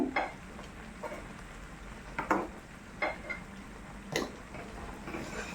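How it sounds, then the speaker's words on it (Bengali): Gaja pastries being stirred through thickened sugar syrup over high heat, giving a handful of separate scraping, clattering strokes about a second apart over a low background bubble, close and moderately loud with no talking. "গজাগুলো আমি চিনির শিরার মধ্যে নেড়ে চেড়ে নিচ্ছি"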